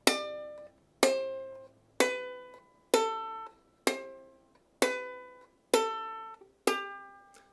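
Ukulele playing a plucked walking melody with strums between notes: eight evenly spaced bright attacks about a second apart, each ringing and decaying, close and clear with no voice over them.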